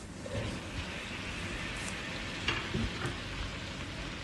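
Cut potatoes fry in a spiced masala with ginger in a hot pan, a steady close sizzle broken by occasional stirring scrapes, with no voices.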